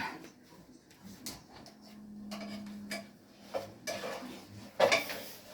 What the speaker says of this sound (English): Now what we need is the plastic spatula because I'm using non-stick